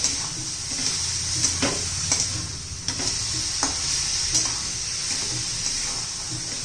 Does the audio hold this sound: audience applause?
no